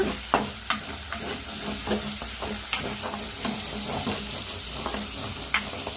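Chicken liver and fenugreek leaves sizzle steadily in a pan, with scattered close scrapes and taps of a spoon stirring through the frying.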